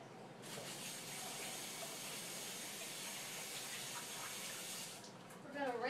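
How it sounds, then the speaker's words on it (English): Tap water runs steadily into a kitchen sink as hands are rinsed during cake and icing preparation, giving a constant close hiss that shifts slightly near the end. "We're going to rinse our hands off because mine were dirty"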